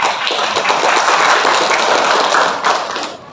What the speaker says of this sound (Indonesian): Tepuk tangan buat Bu Lucy.